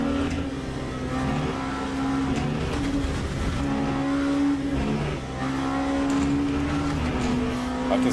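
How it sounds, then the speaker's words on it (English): A race car in Le Mans Ultimate squeals its tyres through a corner. The engine drones continuously and shifts pitch as it accelerates, with no talk over it. "I can start hearing the tyres give way, they're not happy."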